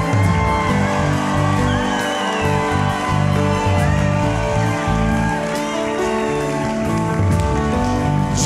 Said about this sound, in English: Your greatest shout, your greatest praise, your greatest cheer.